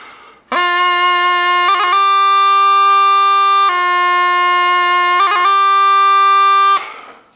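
A Highland bagpipe plays a Dare embellishment, its drones and chanter sounding loud and steady with quick grace-note flicks breaking the melody twice before the sound stops.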